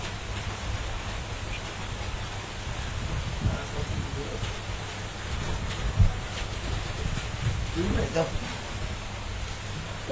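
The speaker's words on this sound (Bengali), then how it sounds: "কাল বৈশাখী ঝড় নামছে আমার ঢাকার আকাশে" Kalbaishakhi storm rain falls over Dhaka as a steady hiss of heavy rain and gusting wind, broadband and continuous, with a few louder gusts and spatters.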